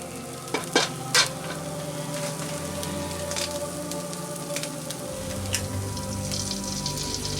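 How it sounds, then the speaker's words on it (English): Eggs frying in a pan give off a steady, close sizzle, with a few sharp clicks and taps near the start. "You crack them and you put them in the fucking pan."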